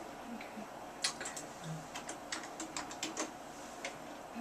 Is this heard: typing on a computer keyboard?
yes